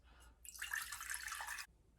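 Distilled water pours into a neti pot in one steady stream of about a second, close and fairly quiet, starting and stopping cleanly with no talking.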